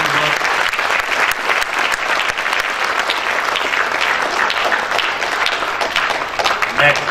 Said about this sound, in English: And a lovely applause to all of you all who's here.